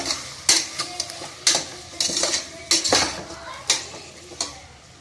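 Ingredients for drumstick soup are sautéed in a pan, a ladle repeatedly clanking and scraping the metal in an uneven rhythm over a low steady sizzle, close and fairly loud.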